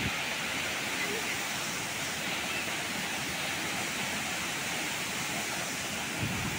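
Water at the Lalpaniya waterfall in Jharkhand rushes down at high pressure, heard as a steady, loud, unbroken roar of broadband noise that fills the whole clip without pause.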